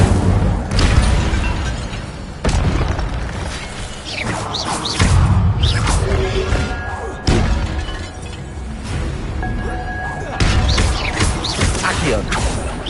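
Repeated Incendio fire spell blasts in a Harry Potter game, a series of loud shattering bursts and booms arriving every couple of seconds, with other spell effects and faint game sounds between them.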